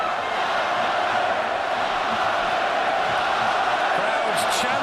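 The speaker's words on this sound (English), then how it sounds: "Crowds chanting again all around. They're standing up and bellowing their support." A dense arena crowd at a heavyweight boxing bout roars and chants in a steady, unbroken wall of noise that stays loud and constant throughout, with no single voice standing out.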